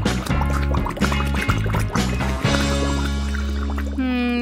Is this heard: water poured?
yes